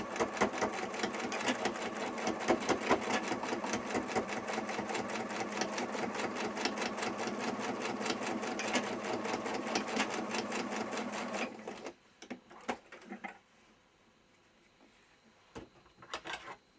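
A sewing machine whirs continuously as it stitches the front of a toy rabbit head's nose, loud and close for about twelve seconds before stopping, followed by a few scattered handling clicks.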